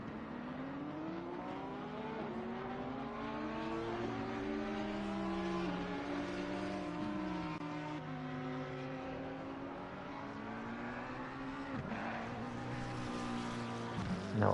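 A McLaren race car engine in a racing video game at Paul Ricard, droning and shifting pitch continuously as it accelerates and changes gear, loud and steady with multiple overlapping engine tones throughout.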